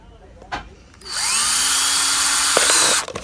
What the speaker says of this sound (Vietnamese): Sau khi mình đã đục hết mấy cái lỗ thoát nước rồi